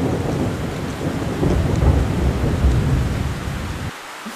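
Heavy rain pouring down with rumbling thunder in an animated Vietnamese fairy-tale cartoon, a dense continuous roar with deep rolls of thunder, loud and steady before dropping off at the end.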